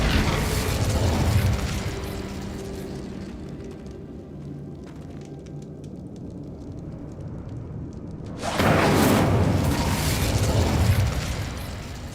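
Incendio fire spell blasts in the Hogwarts Legacy video game: a sustained roaring burst of game sound, easing into a quieter rumbling stretch before a second loud surge of fiery noise near the end.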